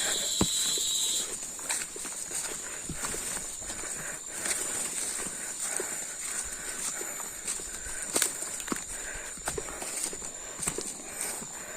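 Steady footsteps crunch along a forest trail in St. Bernard, Southern Leyte, evenly paced over a constant high insect drone in the surrounding woods.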